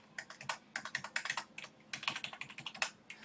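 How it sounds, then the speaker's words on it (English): Typing on a computer keyboard: rapid, irregular bursts of close key clicks with a brief pause midway, no talking. "all we're going to do is type in 4."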